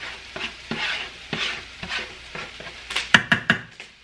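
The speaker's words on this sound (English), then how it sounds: "chop your eggs up really well in there. And then just continue to stir." Chopped eggs are stirred and scraped around a hot frying pan while beef fried cauliflower rice cooks, giving soft sizzling and repeated scraping strokes that quicken toward the end.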